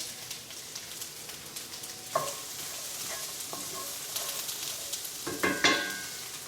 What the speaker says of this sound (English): could definitely hear that sizzle